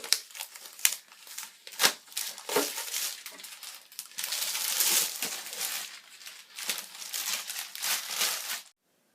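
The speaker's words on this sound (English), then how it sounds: "You're just going to try and rip the plastic" A knife rips and tears plastic packaging off a new skateboard, producing close crinkling, crunching and sharp tearing sounds in irregular bursts, with a brief silence at the end.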